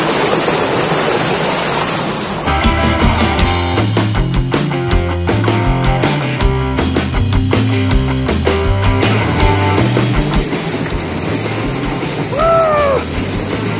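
A waterfall near Tapovan, Rishikesh gives a constant loud rushing roar of falling water, with music playing over it through the middle section.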